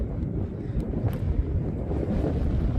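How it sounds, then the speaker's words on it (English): Wind gusts rumble across an outdoor microphone beside a 2000 Nissan Frontier XE truck on a breezy day, a steady low buffeting with no voices. "Nice windy, breezy day"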